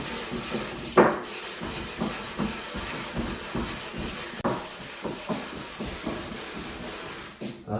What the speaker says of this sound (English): Let me get the sanding this top really quick.